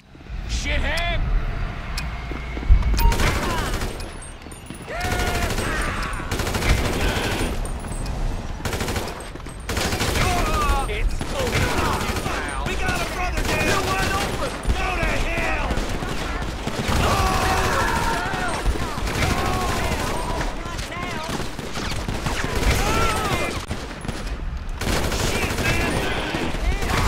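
Gunfire from an armed man in GTA 5 rattles in bursts through a busy, loud scene of traffic and engines, with shouting voices on top throughout.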